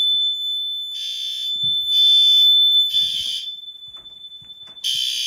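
A fire alarm system under test without power sounds in repeated electronic tone bursts, loud and close, about four pulses with a steady high whine continuing between them.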